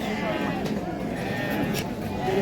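Ewes bleat faintly amid a crowded, noisy background of people chattering at the Taraz livestock market.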